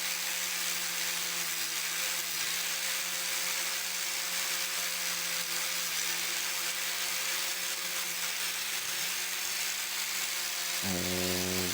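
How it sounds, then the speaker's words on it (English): A wire brush power tool whirs steadily against a live edge wood serving board, a continuous high buzzing drone held at constant loudness, with a brief change in pitch near the end. "I'm using the wire brush as I informed before"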